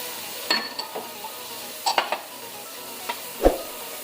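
Ginger garlic paste being stir-fried with vegetables in a pan, with faint sizzling under a few sharp scrapes and clinks of a spoon against the metal, spaced irregularly, ending on one louder knock.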